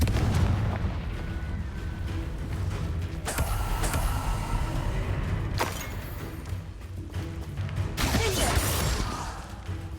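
Spell blasts from the video game Hogwarts Legacy, including Bombarda and Confringo, land in three heavy booming explosions spaced a few seconds apart, each followed by a crashing rumble over busy combat noise.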